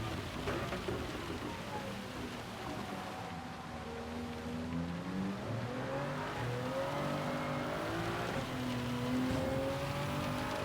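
Simulated Toyota Supra spinning its wheels at the Red Bull Ring in a racing game, a continuous engine drone with wavering revving pitch and a steady roar of tyre noise running throughout.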